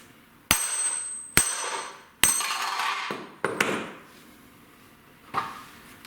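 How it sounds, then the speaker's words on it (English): A big hammer strikes a large socket to drive out an axle bearing on a V8 Chrysler Crossfire: five sharp metallic blows, each ringing and fading, spaced irregularly over several seconds. "So I just found big socket, big hammer, and you pretty much just beat it into submission"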